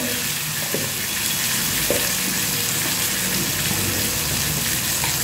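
Ground turmeric, cumin and coriander sauté in hot oil for a cauliflower curry, giving a loud, constant hiss and sizzle with a few light stirring scrapes, no talk.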